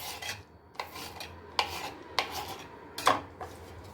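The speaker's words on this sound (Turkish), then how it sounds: "Onları da çok ince olmama kaydıyla doğruyoruz." Fresh garden green onions being finely chopped with a knife for a diet salad, a handful of crisp, separate cuts at an uneven pace, close and moderately quiet.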